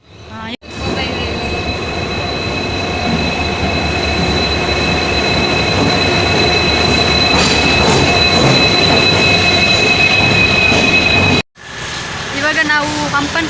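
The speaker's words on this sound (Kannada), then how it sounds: "ಟ್ರೈನ್ ಬರೋಣ ಅಂತಲ್ಲ, ವ್ಲಾಗ್ ಮಾಡಿದ್ರೆ ಹಾಗೇನೆ ಬರ್ಬೋದು" A train passing close by in Mangalore, a loud continuous rumble with steady wheel squeal and clatter that cuts off sharply near the end, with people talking.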